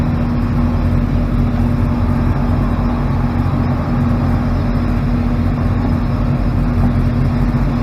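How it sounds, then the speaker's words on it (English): A tractor hauling a big tractor trailer dump up a snowy hill gives a loud, steady engine drone with a constant low hum that runs unbroken from start to end. "Hopefully the tractor doesn't start slipping."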